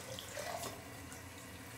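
Tap water runs steadily into a vessel in a home kitchen while almond porridge is prepared, a close, continuous splashing stream that carries on alone for a couple of seconds.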